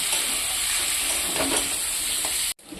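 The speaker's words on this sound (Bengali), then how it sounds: "এবার আমি কুমড়ো আলু একসঙ্গে দুটো ভালো করে ভেজে নেব" Pumpkin and potato frying together in a pan give a steady, close sizzle with faint stirring scrapes, running continuously before cutting off abruptly near the end.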